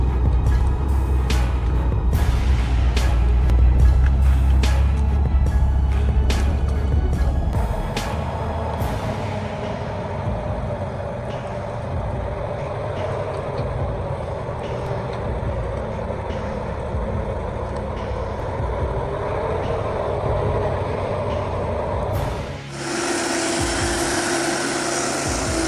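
A modified car engine roars while straining up a steep gravel slope under a heavy load, a loud throaty drone for several seconds, then a long rough rumble mixed with gravel noise, and a sharp change near the end.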